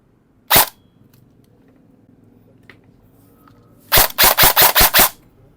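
A single sharp shot is followed by quiet, then a rapid burst of six loud, close snapping shots from an airsoft gun on full auto.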